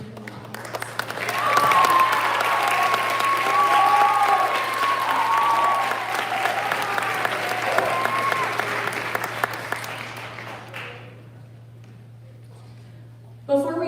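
A school band finale concert audience applauds for about ten seconds, the broad clapping loud and steady under a faint hum, then fading into quiet with a brief sound near the end.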